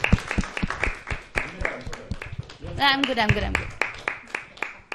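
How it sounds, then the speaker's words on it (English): Scattered individual claps from a small group at a National Youth Day event, sharp and irregular, with a voice speaking briefly in the middle. "keep the applause going"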